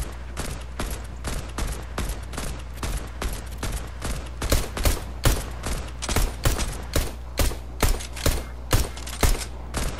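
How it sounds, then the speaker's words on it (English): Gunfire in a shooter video game: a long, loud series of evenly spaced shots, roughly two per second, steady and close, with no talking. "Let me shoot this down, yeah?"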